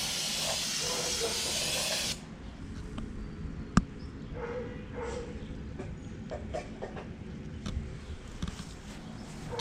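Aerosol spray cleaner blasting onto a Ford Maverick valve train, a loud hiss for about two seconds, then quieter dripping and rustling with a sharp clank.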